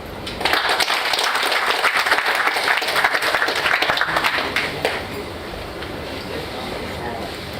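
A live audience claps steadily in a dense, continuous burst for several seconds, then the applause breaks off and a quieter room tone remains.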